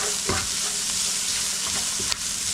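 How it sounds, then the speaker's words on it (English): Onions tossed with stroganoff powder in a frying pan sizzle in a steady bright hiss, broken by a few close scraping strokes of the utensil and one sharp clack near the end. "Give that a stirring."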